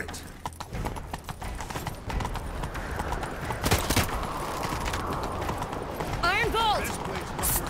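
Horse hooves galloping in The Witcher 3 game, a steady rapid clip-clop with game music, shouts and a horse whinny near the end, loud and continuous under ambient noise.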